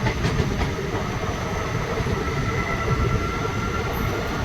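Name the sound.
Maa Tara Express train moving after leaving Bolpur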